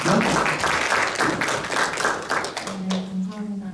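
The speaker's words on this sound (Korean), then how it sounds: "큰 박수로 맞아주십시오." An audience at a Korean public forum on pedestrian mobility gives a burst of clapping to welcome a panelist, fairly close and dense, and it thins out near the end as a tonal hum comes in.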